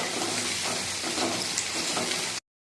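Onions and curry leaves frying in a pan while being stirred, a steady hiss and sizzle close by that runs without pause and then cuts off abruptly near the end.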